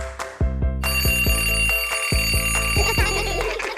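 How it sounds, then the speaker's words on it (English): A loud, rapid metallic bell rings continuously, like an old alarm clock clanging close by with a steady rattling hammer. "It's just a clock, but it's really loud."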